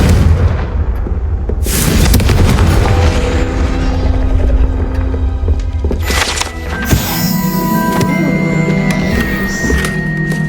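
A fiery Confringo blasting spell explodes in the Hogwarts Legacy video game, giving loud booms and crackling bursts over rumbling game ambience.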